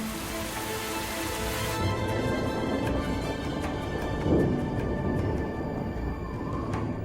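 Steady rain falls on a rainforest in a dense, even hiss of countless drops striking leaves, with a few brief louder spatters.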